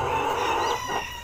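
Pelung chickens in a home coop crow and cluck close by, a long drawn-out crow trailing into short clucks, loud and clear with no talking.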